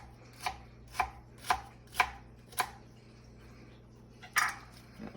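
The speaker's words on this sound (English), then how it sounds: "So I'm just going to do fajita-sized onions." Knife chopping onion on a cutting board for beef fajitas: five evenly spaced crisp chops, then a pause and one final harder chop, close and clear with no talk.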